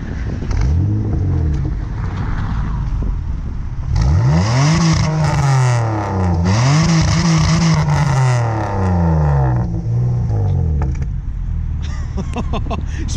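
A BMW 330 Ci starts up close by and is revved hard several times, the engine note swooping up and down with sharp crackles between blips, then settling to idle.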